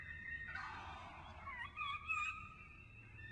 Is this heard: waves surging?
no